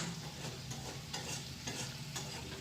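Quiet, steady crackling sizzle of food frying in refined oil, with faint stirring scrapes at intervals and no voices.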